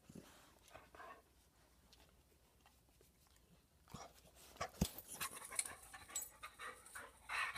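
A dog pants rapidly and close by, the breathing faint at first and then growing louder and busier with rustling and shuffling movement.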